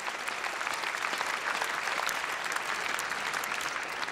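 Steady, dense applause from a large crowd at a badminton match on centre court, continuous and even throughout with no voices standing out.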